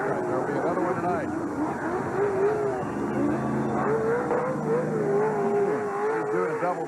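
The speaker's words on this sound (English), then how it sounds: "He's doing a double donut for the crowd." A 1996 NASCAR truck spins double donuts at Tucson Raceway Park, its engine droning and revving in wavering sweeps over a steady roar while a commentator talks continuously over it.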